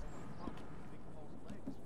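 A horse in Red Dead Online, quiet clip-clop hoofbeats and faint horse sounds in a low game ambience, with a few soft scattered noises over a steady background.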